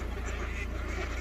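A large mass of ducks on a game bird farm lake, steady layered quacking and honking from many birds at once, loud and continuous with no break.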